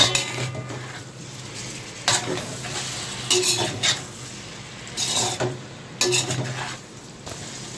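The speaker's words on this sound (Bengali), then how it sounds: "এই যে পনিরটা দিয়ে নেওয়া হলো, দিয়ে এরপরে ভালো করে নাড়িয়ে নেওয়া হবে।" Paneer and green chillies are stirred in a frying pan, with repeated scraping strokes of a spatula against the metal over a soft sizzle. The close, irregular bursts come in bunches, and no one speaks.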